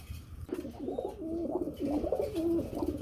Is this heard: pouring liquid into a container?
no